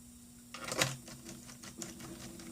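A screw is driven into a Samsung 300E laptop during a DC jack replacement, a quiet rapid mechanical whirring and clicking from a small driver, close up with a brief louder burst near the start.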